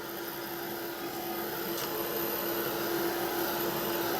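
Heat tool blowing steadily while drying pen ink on a craft page, a constant whirring hum with a high whine, moderately loud and uninterrupted.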